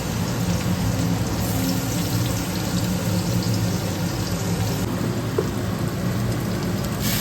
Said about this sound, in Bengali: বাইরে প্রচুর পরিমাণে বৃষ্টি পড়ছে